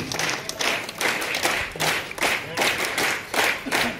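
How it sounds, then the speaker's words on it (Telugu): A crowd claps loudly in a steady, rhythmic pattern of bursts at a World Indigenous Peoples' Day celebration in Telangana. "స్వాగతం సుస్వాగతం గట్టిగా చప్పట్లతో వారిని ఆహ్వానిద్దాం"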